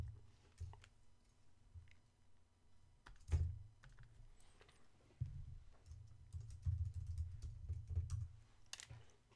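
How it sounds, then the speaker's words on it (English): Clicks and taps of a computer keyboard pressed by the left hand, working shortcuts while drawing in Photoshop, as soft irregular keystrokes over a low hum, with a few louder clacks. "I basically have my left hand on my keyboard,"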